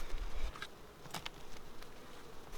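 Honeybees at a hive, a faint soft buzz with brief passing bursts as individual bees fly close by the microphone.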